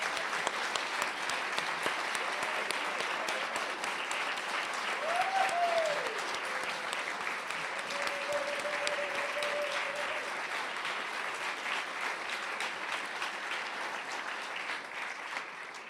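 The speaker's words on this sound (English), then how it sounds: "Now let's give them all a round of applause." Sustained applause from an audience at a suffrage celebration at the National Press Club, steady dense clapping for about sixteen seconds, with a faint voice rising briefly above it.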